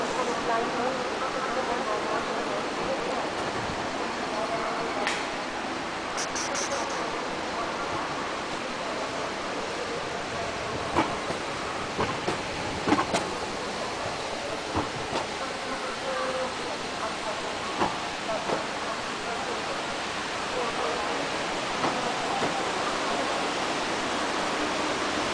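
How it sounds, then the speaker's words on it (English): A steady waterfall rush in a video game, a broad continuous wash of falling water heard throughout with brief clicks and faint talk over it. "There's a waterfall here."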